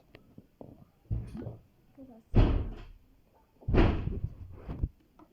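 Door opening and closing in an indoor room, two heavy thuds heard near and loud, with soft talk and handling noises between them.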